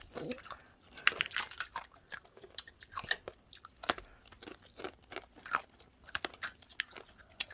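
Crunchy dalgona honeycomb candy being bitten and chewed up close, a rapid series of sharp, brittle crunches and crackles at an irregular rhythm, with no talking.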